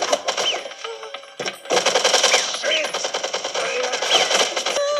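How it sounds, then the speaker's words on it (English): A MAC-10 open-bolt submachine gun fires in fast, dense bursts that climb out of control, loud and close, with a brief gap partway through and speech-like voices mixed into the clatter. "We got a flying open bolt machine gun now."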